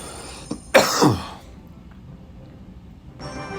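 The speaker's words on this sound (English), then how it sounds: "I'm slightly sick right now, which is why I'm coughing." A single sharp cough close to the mic, followed by quiet background and a faint hiss near the end.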